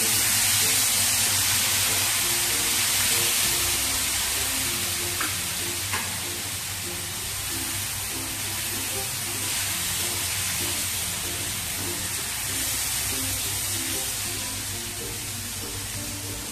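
Dosa batter of rice flour and semolina sizzles steadily on a hot griddle, a continuous close hissing fry that holds at an even level throughout with no talking.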